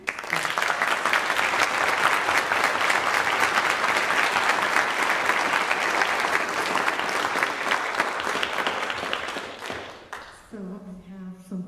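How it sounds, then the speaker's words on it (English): Loud, dense audience applause after a high school orchestra concert, sustained for about ten seconds before stopping, followed by a brief moment of voices. "So can we have a round of applause?"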